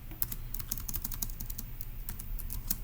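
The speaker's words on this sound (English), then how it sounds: "So let's go type that up in our notes." Fingers type notes on a computer keyboard, a quick irregular run of soft close key clicks over a quiet room background, with no talk.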